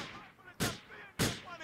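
Two sharp, loud gunshots about half a second apart in the Grand Theft Auto IV video game, each a sudden crack that fades quickly, with a faint background ambience between them.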